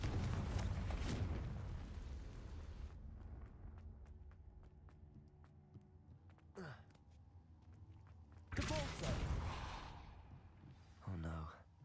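Confringo blasting curse explosions in the Hogwarts Legacy video game, a loud roaring burst at the start, then two more whooshing blasts later with a quieter rumbling stretch between them.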